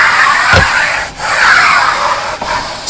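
Eraser rubbing writing off a classroom board in a few broad, steady strokes with brief pauses, close and fairly loud, no talking.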